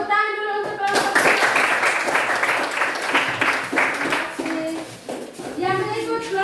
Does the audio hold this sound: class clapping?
yes